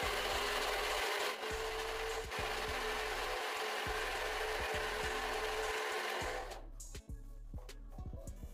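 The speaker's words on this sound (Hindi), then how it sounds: "थोड़ा सा दूध डालने के बाद आप इसको फिर से पीसेंगे।" Mixer grinder blending apple with a little milk, a loud steady whirring motor with a rhythmic pulsing texture that shifts near the end as the load changes, close and alone.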